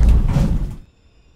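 A K.W. Neptune elevator's doors at 616 Tower slide shut with a loud, close rumble that stops abruptly, leaving a faint, steady hum in near silence.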